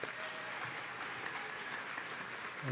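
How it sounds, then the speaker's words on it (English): Graduation audience at a Coconino Community College career and technical education commencement applauds steadily, a dense wash of clapping that holds at an even level for a few seconds. "Give yourselves a big round of applause."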